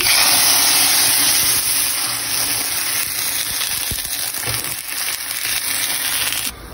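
Garlic tempering fries in hot oil for cooking red amaranth greens, giving a steady, dense sizzle and hiss that carries on evenly throughout with no voices.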